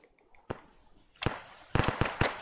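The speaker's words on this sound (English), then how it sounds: "There's shots northeast of the mosque." Scattered gunshots in the military shooter ARMA 3, a handful of sharp cracks at irregular intervals, one early lone shot then a quick cluster of several, moderately distant against quiet background with no talking.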